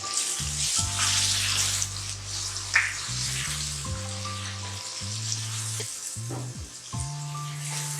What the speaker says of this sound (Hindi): अब हम इसमें गोश्त शामिल करके उसको अच्छी तरह भूनेंगे